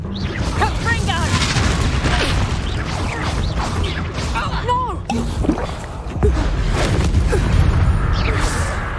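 A Confringo blasting spell exploding in Hogwarts Legacy, with whooshing casts, crashes and booming impacts inside a busy fight. Voices are heard over the action.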